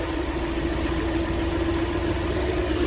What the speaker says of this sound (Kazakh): Қозғалтқыш кәдімгідей дірілдеп тұрады.